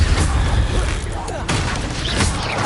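Incendio, a fire spell in Hogwarts Legacy, is cast amid combat. A thick, loud roaring blaze runs throughout with a sharp whoosh midway and clatter from the fight around it.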